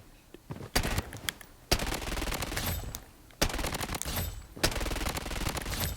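Uzi fire in the video game Blood Strike, four loud sustained bursts of rapid automatic shots separated by short pauses, close and dense.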